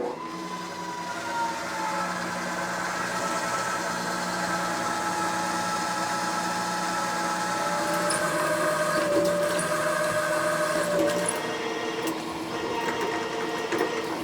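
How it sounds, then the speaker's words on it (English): Steady machining drone with a high tonal whine as a milling machine bores a 1-inch hole into metal with an end mill, continuous and fairly loud with a slight pitch shift near the end. "grab a 1-inch end mill and drill it out with an end mill"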